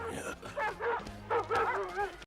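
A dog barks and yips repeatedly in short bursts, close and fairly loud, with some whimpering tones between barks; sounds like a cartoon dog.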